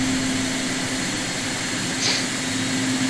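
Thrust reversers on a Cessna Citation II business jet after landing, in a flight simulator game: a loud, continuous whooshing jet roar with a steady low hum, constant throughout and with no voices.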